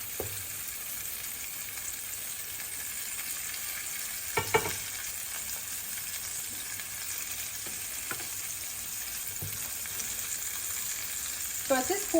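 Meatloaf cooking in a pan on top of the stove gives a steady, soft sizzle and frying hiss, with a few louder crackles and pan noises scattered through it.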